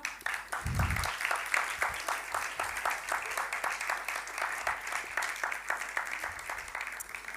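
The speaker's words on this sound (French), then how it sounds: "Et je vous prie d'applaudir Stéphanie Chibanda." An audience at a French-language coaching event in Abidjan applauds steadily for several seconds, a dense, even wash of many hands clapping heard from a moderate distance, with a brief low thump near the start.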